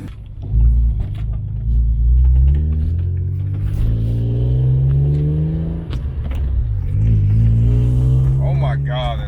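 A BMW E36 drift car idles and revs through a cheap $40 muffler, its deep exhaust drone rising and falling in pitch over several seconds, loud and close, with a voice speaking over it.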